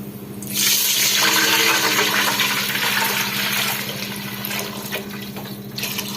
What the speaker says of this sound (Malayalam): പന്ത്രണ്ട് ഗ്ലാസ് വെള്ളം ഒഴിക്കണം അതിലേക്ക്